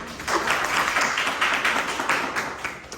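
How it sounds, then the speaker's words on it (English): Students clap in a lecture hall, a brisk burst of many hands clapping close and fairly loud for a few seconds, then tapering off. "Before that, clap for her."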